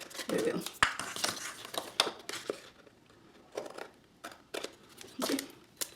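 Scissors snip through paper while making a gift card, a series of short, crisp cuts in irregular bursts, close and fairly quiet, alternating with soft rustling and handling of the paper.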